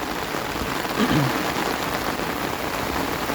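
Heavy storm rain pours steadily in a dense, even hiss of drops striking surfaces, with a faint voice briefly breaking through near the middle.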